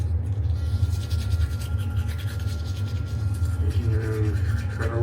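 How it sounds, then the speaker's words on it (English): Teeth being brushed with a manual toothbrush and toothpaste, a steady close scrubbing rasp with a rhythmic back-and-forth texture, continuous throughout. "Alright, time to brush the teeth."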